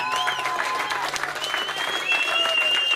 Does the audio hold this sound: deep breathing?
no